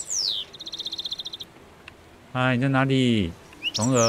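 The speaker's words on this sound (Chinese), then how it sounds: "只能听鸟叫声" Bird calls in the video game 霸劍霄雲錄 sound as a falling whistle followed by a quick run of rhythmic chirps, while a voice speaks briefly and then another long, strong call joins in.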